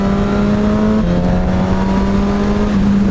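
A 2019 Suzuki GSX-S1000 motorcycle engine drones loud and close while accelerating past a car, its steady pitch dipping briefly and climbing again over constant wind rush.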